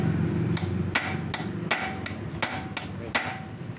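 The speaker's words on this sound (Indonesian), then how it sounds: "pukul pakai ini bekas sok yang lebar atau pipa, pokoknya sampai bunyi cetok-cetok gitu" Sharp metallic knocks from a pipe hammering a motorcycle steering bearing on a Yamaha Vixion strike at an irregular pace, about nine hits, close up over a low background hum.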